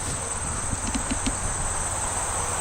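Insects chirp in a parkland setting, a steady high buzzing drone with a few short rhythmic pulses near the start, moderately close and unaccompanied by talk.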